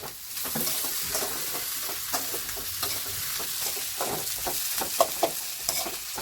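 Tomatoes frying in a pan for chicken curry are stirred, a continuous bright sizzle with scraping strokes of the spoon and a few sharper clacks against the pan, close up.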